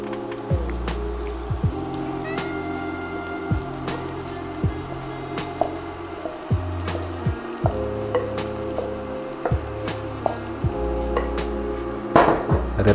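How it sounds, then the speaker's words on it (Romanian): Heart and lungs sauté in a pan with a steady, close sizzle, broken by repeated scraping knocks of a utensil stirring the meat at a fairly regular pace, with no one talking. "Repet, nu îi prăjim, îi călim și îi înăbușim puțin."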